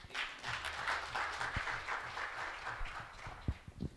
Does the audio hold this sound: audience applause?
yes